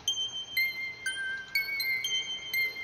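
Bright, bell-like lead synth line from a beat built in FL Studio, playing a short melody of sustained high tones with quick note changes, alone and fairly quiet.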